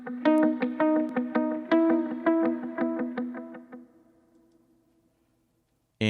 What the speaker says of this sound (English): Here's the track without delay or reverb.